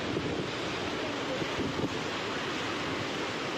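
Floodwater surging over a mill during heavy rain and flooding in Kadapa and Chittoor, a loud, dense, continuous roar of rushing water with wind buffeting the microphone and no voices.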